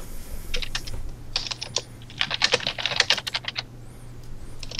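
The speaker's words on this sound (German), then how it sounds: "Wenn ihr tippt, bitte kurz muten, das ist das ziemlich laut." A computer keyboard clatters loudly over a voice chat during a tabletop role-playing session, with rapid, irregular bursts of close keystrokes that pause briefly and then resume, over a faint low background hum.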